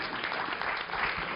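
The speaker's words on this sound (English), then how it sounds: "I think we need another round of applause for that one." An audience at a talk on improving diagnostics in Africa breaks into a brief, fairly quiet burst of dense, even applause.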